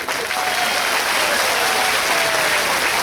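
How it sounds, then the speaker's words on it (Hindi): A large crowd at a constitution convention rally applauds, loud, dense and sustained clapping that holds evenly throughout. "उनके नाम की जरा एक ताली बजाएं।"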